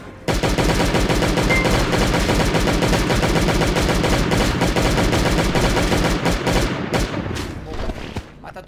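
Guns fire in the zombie survival game Last Day On Earth, rapid automatic bursts rattling continuously and loudly for several seconds before thinning out and stopping near the end.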